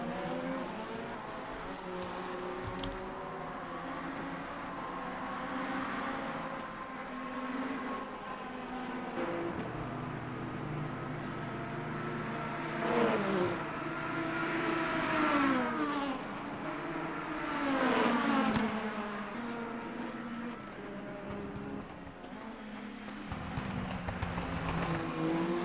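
Race cars circling Paul Ricard in a multi-class Le Mans sim racing game, engines droning and revving steadily throughout with rising and falling pitch as cars pass, faint talk underneath.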